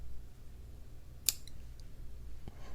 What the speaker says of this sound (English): I'm going to take my scissors and just cut the end right here